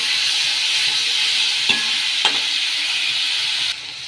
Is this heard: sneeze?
no